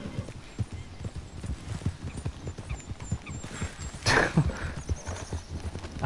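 Video-game horse hooves clip-clop in a steady, fast rhythm at close range, with a brief whinny partway through.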